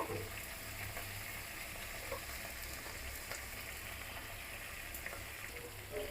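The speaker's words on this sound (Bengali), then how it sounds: "হলুদ তেলের মধ্যে দিয়ে দিব" Turmeric dropped into hot oil in a pan, producing a steady, faint, even sizzle with light crackle throughout and no voices.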